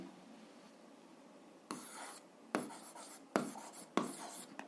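Writing an algebra solution by hand: quiet pen-on-paper scratching with four distinct strokes, each a short rasping burst, recorded close and faint with no talk.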